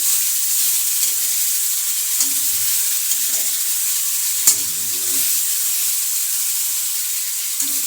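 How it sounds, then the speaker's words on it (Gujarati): Carrots stirred and roasted in ghee in a pan for Gujarati carrot halwa, giving a steady soft sizzle with occasional scraping stir sounds, close and continuous with no talking. "આપણે આ રીતે હલાવીને હવે તેને શેકાવા દઈશું ઘીમાં"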